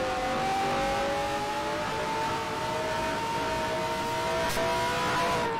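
A 1974 USAC race car engine at the Arizona 150 drones steadily at high pitch, holding a sustained whine that rises slightly while entering a corner behind another car, with a brief sharper burst near the end.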